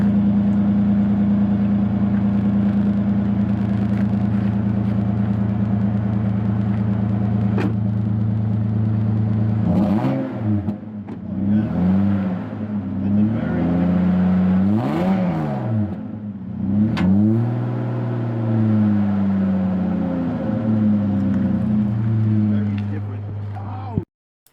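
Toyota FZJ80 truck with a Magnaflow exhaust, starting on a steady loud idle rumble and then revving repeatedly in rising and falling bursts, close up, before cutting off abruptly at the end.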